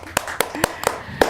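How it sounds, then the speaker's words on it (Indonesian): Five sharp hand claps land at an even, quick rhythm, sounding close and fairly sparse, like a small group clapping. "Boleh tepuk tangan teman-teman"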